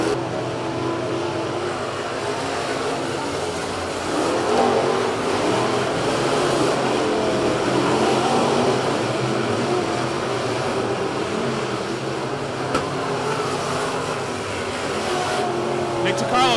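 Dirt modified race cars roar around the oval at Ocean Speedway, a continuous loud engine drone from the pack that swells slightly midway, with a commentator talking over it.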